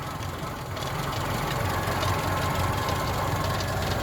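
A classic car's A-series engine idles with its mixture running slightly lean, a steady close rumble with a faint uneven pulse, heard alone without talk.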